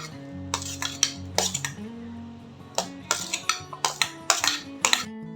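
A metal spoon clinks and scrapes against a pot as jaggery and cut raw mango are stirred together for Ugadi mango pachadi, giving brisk, uneven bursts of close metallic knocks.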